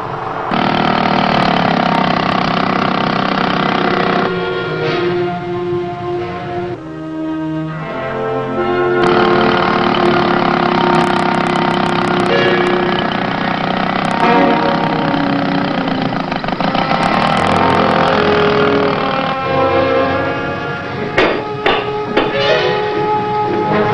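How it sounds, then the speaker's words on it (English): A boat's outboard motor drones steadily and loudly for the whole stretch, with a dense mid-pitched churn that dips briefly and then surges back. "Listen to that outboard"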